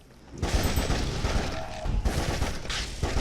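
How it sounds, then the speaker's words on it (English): Rapid bolt gun fire in the video game Darkenstein 3D: a dense run of loud, close shots in quick succession, with only brief gaps between bursts. "Shooting through the banisters is a little bit tricky"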